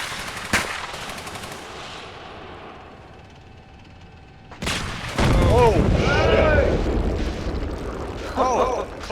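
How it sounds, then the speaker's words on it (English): Coaxial machine gun fire in a tank combat video game, a sharp burst followed by heavy rattling fire and booms, loud and close, with players talking over it. "He's shooting coax at me."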